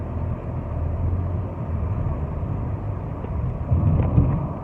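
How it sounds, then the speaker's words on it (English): A gas truck engine runs rough on the road, a steady low rumble with uneven lumpy vibration that swells louder near the end, heard alone without talk. "My car is running so rough. Do you hear this?"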